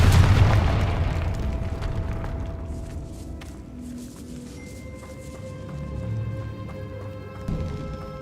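A Confringo spell from Hogwarts Legacy bursts with a loud booming explosion at the start, then decays into a ringing, shimmering tail and lingering tones.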